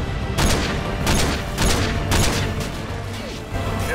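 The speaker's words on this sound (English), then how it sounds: "All snipers, clear to engage." Heavy gunfire in Call of Duty: Modern Warfare 2's Gulag mission. Loud repeated booming shots come in bursts over a continuous low rumble of battle, with no talk.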